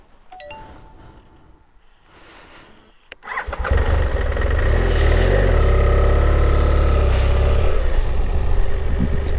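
A motorcycle engine cranks and fires after a refuelling stop on a road trip through Russia, catching abruptly and settling into a loud, steady running rumble close by, with no talk over it.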